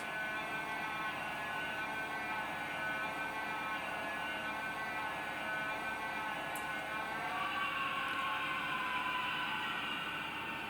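A Bachmann Class 66 model diesel locomotive with a DCC sound decoder runs its engine down, a steady rumbling drone whose tone shifts partway through as the engine winds toward stopping.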